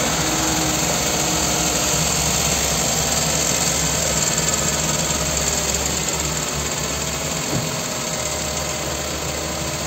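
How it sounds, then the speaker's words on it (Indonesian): A car engine idles steadily right after starting during radiator coolant bleeding, a loud, constant close drone with an even hum that holds for the whole stretch, no talking. "Ya, mesinnya sudah nyala, kita biarkan aja."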